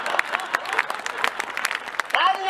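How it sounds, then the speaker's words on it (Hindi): Audience at a Hindi comic poetry recital claps steadily in a rhythmic beat, many hands together, continuous and fairly loud, with a performer's voice over it. "तालियां मिलकर ताल के साथ बजाइए"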